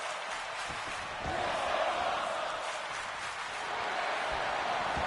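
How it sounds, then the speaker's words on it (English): Wrestling crowd in WWE 2K24 chanting steadily in a large arena, a dense, continuous roar of massed voices that swells slightly after the first second and holds at a strong level throughout. "Crowd chanting, "This is awesome.""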